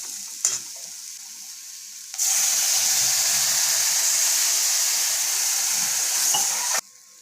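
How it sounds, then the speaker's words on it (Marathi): Potatoes cooking in a pan for a rustic spicy potato bhaji: after a quiet start with a faint clink, a loud, even sizzle bursts in and holds steady for several seconds, then cuts off abruptly. "आपण थोडेसे बटाटे शिजवून घेऊया."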